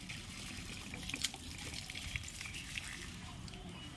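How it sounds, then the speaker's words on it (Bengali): Water pours and trickles from a bottle onto plants, making a faint, continuous dribble with a few small drips and splashes, heard alone. "তুমি কেমন গাছে জল দিচ্ছে।"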